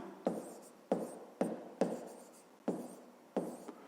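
Chalk or marker strokes on a board during a 5th-grade math lesson, six or seven crisp tapping scrapes at an uneven pace, close and soft, with no voices.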